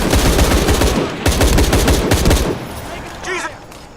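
Rapid bursts of automatic gunfire in the action video game Shadow of the Tomb Raider, loud and close, rattling in several volleys before cutting out to quieter sounds and a brief voice.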